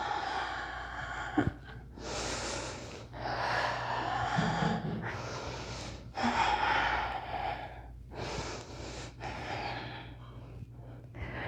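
Steady inhales and exhales during an intermediate vinyasa yoga flow, several slow breath cycles close and clear, each lasting a second or two, over a low continuous background hum, with no talking.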